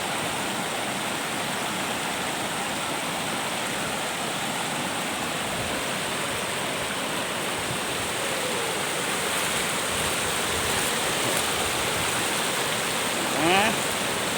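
A stream flows with a steady, continuous rushing wash that holds an even level throughout, with a brief faint disturbance near the end.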